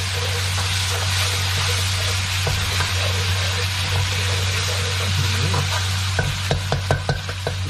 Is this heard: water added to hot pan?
yes